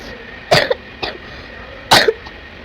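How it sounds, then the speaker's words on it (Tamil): A person coughs during Tamil gaming commentary for The Archers 2: two sharp, close coughs with a lighter one between them, over a quiet background. "அந்த இருமல் ஒன்றும் என்னை விட்டு போக மாட்டேங்குது"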